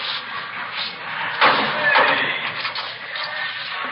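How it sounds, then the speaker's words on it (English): A jail door in a 1951 Dragnet radio drama is shut and locked, making a single firm thud partway through over a steady hiss of background noise. "They want to lock that door."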